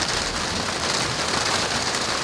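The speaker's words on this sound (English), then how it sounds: "it's raining. Not a lot, but it's sprinkling down." Steady outdoor rain on a cloudy, breezy day, a dense, even hiss of drops falling onto surfaces, including a new tarp, loud and continuous with no voices.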